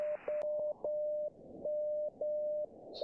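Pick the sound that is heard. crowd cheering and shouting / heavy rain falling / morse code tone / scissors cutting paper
morse code tone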